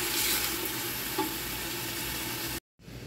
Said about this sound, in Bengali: মশলাগুলো একটু ভেজে নেব।